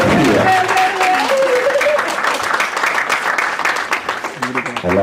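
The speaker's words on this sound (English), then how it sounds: "Please, let's give her a round of applause." An audience at a book launch applauds as a speaker walks up to the stage, dense clapping and some cheering that fades a little, with a voice speaking over it.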